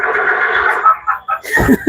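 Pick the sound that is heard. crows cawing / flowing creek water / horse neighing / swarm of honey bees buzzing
horse neighing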